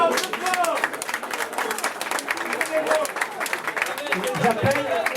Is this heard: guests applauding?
yes